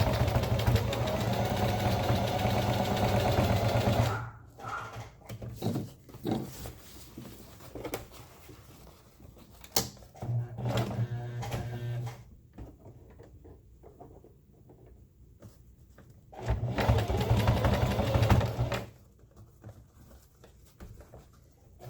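A sewing machine backstitches repeatedly over the opening of a pocket on a rappel rope bag, with bursts of rapid mechanical stitching separated by pauses and quieter handling noises.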